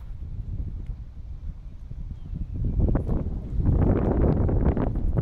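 Strong gusty wind of about 20 knots at the Wessagusset Beach boat ramp in Weymouth, Massachusetts, buffeting the microphone in rough low bursts that build louder toward the end, with no voices.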